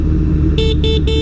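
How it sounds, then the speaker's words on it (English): Three short, loud beeps from a motorcycle horn in traffic, evenly spaced over a steady engine and road rumble. "Honk that horn."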